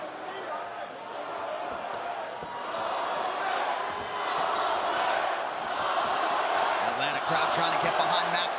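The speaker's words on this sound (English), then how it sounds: "Crowd trying to get behind Max Holloway here." Arena crowd at UFC 242 cheering for Max Holloway, a sustained roar that builds gradually and swells toward the end, with a commentator talking over it.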